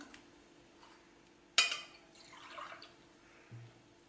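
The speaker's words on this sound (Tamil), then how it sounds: "கொஞ்சமாக தண்ணி ஊற்றிக்குவோம்" A short splash as a small amount of water is poured onto ginger for juicing, followed by a brief trickle and a faint clink, close and quiet.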